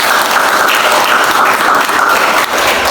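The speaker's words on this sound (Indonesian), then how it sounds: "beri tepuk tangan kepada Kamson." Classroom applause for a student after a presentation in a teaching session, a dense, steady burst of many hands clapping close by that holds for about three seconds and dips briefly near the end.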